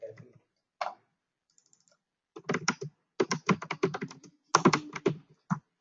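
Typing on a computer keyboard: a few isolated keystrokes, then quick bursts of close, crisp key clicks in uneven runs with short pauses between them, alone in an otherwise silent room.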